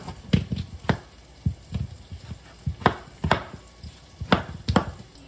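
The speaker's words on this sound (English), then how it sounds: "you'll want to chop about 2 pounds of unpeeled potatoes" A knife chops unpeeled potatoes on a cutting board in sharp, uneven thuds, close and fairly quick, with faint sizzling of frying bacon in the background.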